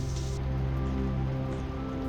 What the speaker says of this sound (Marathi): पाऊस चालूच होता